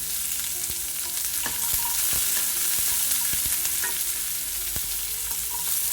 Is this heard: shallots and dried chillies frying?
yes